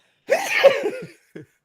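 A man sneezes once, sharply and close by, with a brief voiced tail and a short catch of breath after it, during a sports talk show.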